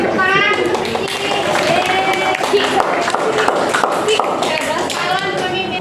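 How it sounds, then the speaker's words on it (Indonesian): Classroom applause for a student's answer during a civics lesson, steady clapping from pupils running the whole time, mixed with children's voices and a teacher talking over it. "Berikan tepuk tangan untuk Rizky."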